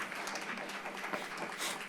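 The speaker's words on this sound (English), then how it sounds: "Please applaud" Applause for the panelists closing a meeting on culture and young people: a brief, faint, dense patter of many hands clapping at once, with a little talk beneath it.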